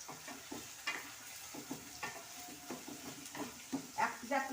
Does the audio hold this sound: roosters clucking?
no